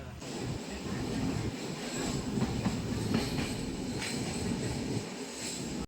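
A Saraighat Express passenger train from Howrah to Guwahati runs on the rails with a steady, close rumble, soft wheel clatter and faint squeals throughout.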